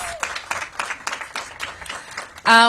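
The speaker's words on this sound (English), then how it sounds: "Please give Mayor Williams a big round of applause." Applause from an assembled crowd at an outdoor civic event for a mayor, a steady patter of many hands clapping, ending in a brief louder tonal burst.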